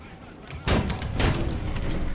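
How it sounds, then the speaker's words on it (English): Artillery fire in War Thunder: a heavy boom followed by a rapid string of thudding impacts and shots, loud and close over a rumbling battlefield background. "that artillery is going to be an absolute killer"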